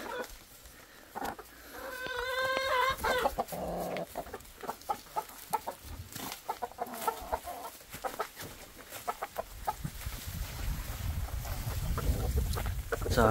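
Chickens cluck in short bursts over rustling and wind-like rumble, with one drawn-out crowing call early on, fairly close.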